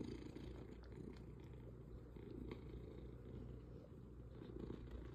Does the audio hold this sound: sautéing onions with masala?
no